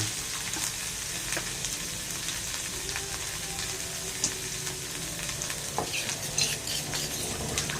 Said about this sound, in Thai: เจ้าผัดพริกแกงนี่ก็ไม่ต้องใช้ไฟแรงมากกันนะครับ